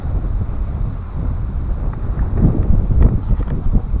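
Steady wind buffeting the microphone at a forest lake campsite, a low broadband rumble that swells and gusts slightly toward the end, with no voices.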